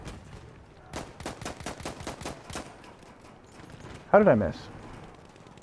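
Heavy gunfire in the video game Battlefield 1: a rapid burst of about eight evenly spaced shots, then a louder, closer blast, with someone speaking briefly over the shooting.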